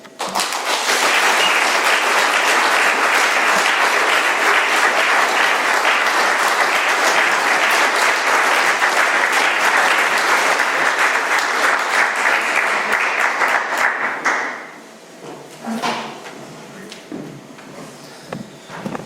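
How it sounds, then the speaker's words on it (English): Sustained, loud applause from an audience at an AA meeting in Doylestown, Pennsylvania, rolling steadily for about fourteen seconds before thinning out into a few scattered claps and quieter room noise. "One more round of applause there."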